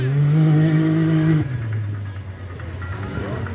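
An off-road car engine revs loudly and close by, holding a high roaring tone, then drops to a rougher, lower rumble as the revs fall away.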